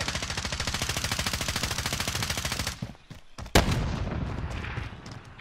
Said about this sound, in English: I got shots coming in to my right.